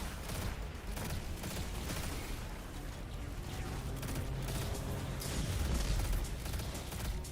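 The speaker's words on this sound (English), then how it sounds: "I love the fireworks." Fireworks in Minecraft burst in a dense, crackling volley of rapid pops and booms that runs steadily for several seconds at moderate loudness, with no talking.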